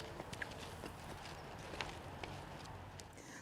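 Horses walk at a steady pace in a Thanksgiving parade, their hooves clip-clopping in an irregular rhythm at moderate distance over a constant outdoor background murmur.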